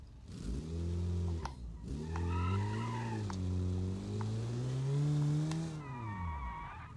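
Small car driving up a steep course in the BeamNG driving game, engine revving loudly and steadily with rising and falling pitch, a brief tyre squeal partway through, no talk.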